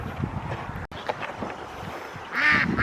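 Ducks on a farm give a short, nasal quack near the end, amid faint outdoor rustling and wind.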